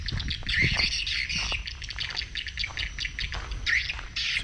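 Swiftlets call around an edible bird's-nest house in Cho Gao, Tien Giang province, Vietnam: dense, continuous high chirps and squawks from many birds close by, with no talk.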